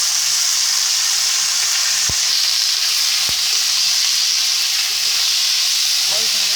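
Spice paste and vegetables frying in a pan give a steady, close sizzling hiss throughout, broken by two sharp knocks of a utensil against the pan and a faint voice near the end.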